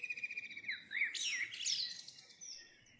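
Cartoon birds chirping on an island, a bright run of quick tweets and rising, falling whistled calls, fairly soft and alone over a faint background hiss.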